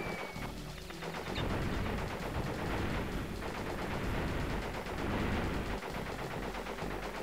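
Sustained rapid gunfire in the Crash Bandicoot 3 video game, a dense, continuous barrage that stays loud throughout with no pauses.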